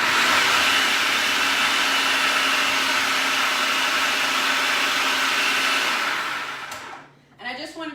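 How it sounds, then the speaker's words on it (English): A food processor fitted with an S blade ricing cauliflower, a loud steady whirring motor roar that runs for about seven seconds then cuts off, followed by a voice speaking. "So I'm using the S blade in my food processor."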